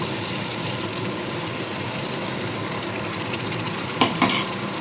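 Ground spice paste sizzling in a pan for a paneer and pea curry, a dense steady hiss close by, with a few brief metal scrapes near the end.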